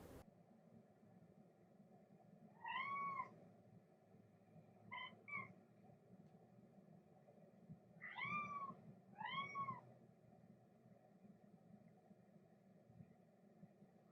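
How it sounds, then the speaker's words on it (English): A pet cat meows indoors, four or five drawn-out rising cries spaced over several seconds, fairly close but quiet over a low background hum; no talking. "my cat's making noise"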